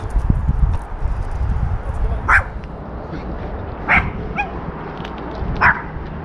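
A few short dog barks sound at a distance, spaced a second or two apart over a rumbling background.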